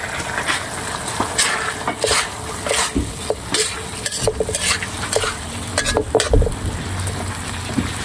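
Tinapa (smoked fish) and eggs fry in a pan, giving a steady close sizzle. Frequent stirring scrapes and clinks of a utensil against the cookware break through it.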